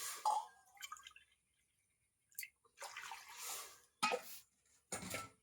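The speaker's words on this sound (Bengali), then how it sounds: "এর মধ্যে দিয়ে দিচ্ছি দু বাটি জল" Two bowls of water go into a kadai on a lit stove with a stand set inside, landing as a few separate splashy, clattering bursts with quiet gaps between them.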